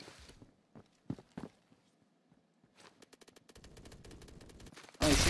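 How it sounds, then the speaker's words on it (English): Gunfire in a video game comes as scattered single shots and then a rapid automatic burst, mostly distant and moderate, ending in a sudden loud blast. "he's shooting another person"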